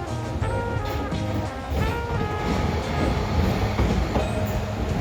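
A tram on the Setagaya tramway in Tokyo rumbles along its rails, a continuous rolling clatter with faint squeals and clicks of the wheels, fairly close.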